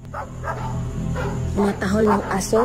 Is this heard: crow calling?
no